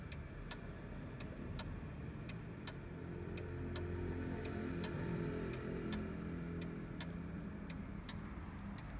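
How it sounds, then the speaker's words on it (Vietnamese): An antique pendulum wall clock ticks steadily, with evenly spaced sharp ticks about twice a second over a low background rumble and no voices. "Con đồng hồ này của em nó đang chạy này, các bác nghe, các anh nghe tiếng tích tắc tích tắc."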